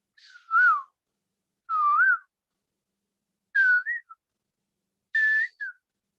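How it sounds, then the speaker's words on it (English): A koel sings four separate rising whistled calls, evenly spaced and clear, alone with no talk or other sound. "And you hear the kokila singing."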